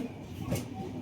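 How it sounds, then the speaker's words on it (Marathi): A passenger train pulls into Ratnagiri railway station with a low, steady rumble and a brief hiss of brakes or air near the middle, while people talk faintly nearby. "फायनली ट्रेन आलेली आहे आपली"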